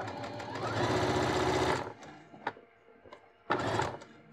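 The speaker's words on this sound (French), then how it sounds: "je vais coudre maintenant ce que je viens d'épingler" A sewing machine stitches a pinned square zip pouch in a close, steady mechanical whirr lasting nearly two seconds, then a few small clicks and a second short burst of stitching.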